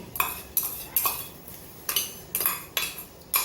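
Poha being scraped out of a cooking pot with a metal spoon, sharp clanking strikes against the vessel repeating about every half second, close and distinct, with no speech.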